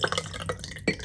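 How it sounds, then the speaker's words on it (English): Cooked instant boba pearls, cooled with ice, slide and drip into a glass, giving a few soft wet plops and clinks over about a second, close and fairly quiet. "First, we're gonna pour in the boba."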